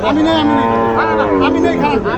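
A cow moos loudly and close by at a cattle market, a long drawn-out low call with shifting pitch, with some background chatter.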